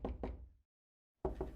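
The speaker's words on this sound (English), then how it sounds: "Let's keep knocking." Knocking on a door in the video game Twin Peaks: Into the Night: two sharp raps, a silent pause of over half a second, then two more, close and solid with no talk.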